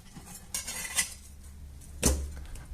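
A knife chopping onion and potatoes on a board for carrot and potato soup, with a few separate sharp knocks and clatters spread across a short, fairly quiet stretch.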